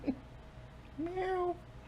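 A human voice imitating a cat's meow, a single drawn-out rising-then-falling call, clear and close, during a sports talk show, after a brief faint sound and otherwise quiet background.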